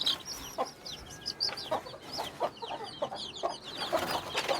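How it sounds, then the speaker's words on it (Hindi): Hens cluck in a chicken coop with chicks about, a steady scatter of short clucks and chirps at close range, with no voices. "ये एक मुर्गी इधर ही आई अभी"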